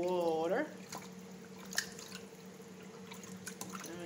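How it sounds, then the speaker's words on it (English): Salt mackerel is rinsed in cold water, with soft splashes, drips and sloshing at close range, mostly quiet with a few sharper clinks, after a short stretch of speech at the start. "I'm gonna give it a rinse in some cold water"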